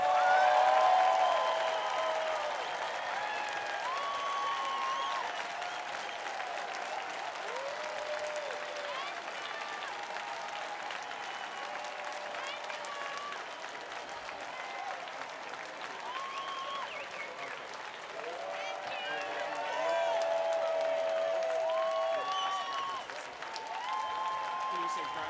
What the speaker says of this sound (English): please join in a round of applause for the graduates of the class of 2021